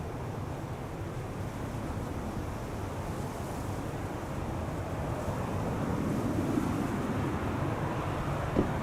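An airliner departs Amsterdam Schiphol Airport, its deep, steady jet roar heard from a distance and slowly swelling in loudness, with wind buffeting across the whole stretch.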